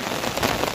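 Steady rain falling in the hilly Gir forest during a monsoon downpour, a dense, even patter of drops on surfaces close by, with no voices.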